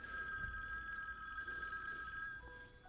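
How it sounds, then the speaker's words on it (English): A telephone rings in a film scene, a steady electronic bell tone held for nearly three seconds, moderately quiet, against a faint room hum with no talking. "then the phone rings"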